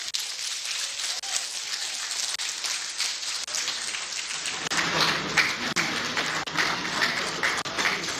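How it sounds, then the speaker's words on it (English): Audience applause for the Honorable Minister of Power at a ministerial press briefing, a steady dense clapping that swells louder about halfway through and continues without pause to the end. "Please come and make the applause a bit louder for the Honorable Minister of Power."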